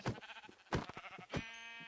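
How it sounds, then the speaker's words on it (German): Sheep bleating in Minecraft, three wavering harmonic bleats at a steady spacing, close and fairly loud, with no talk over them. "Ah, da ist ein Schaf."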